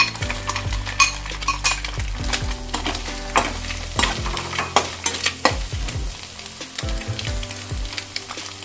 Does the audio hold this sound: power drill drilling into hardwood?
no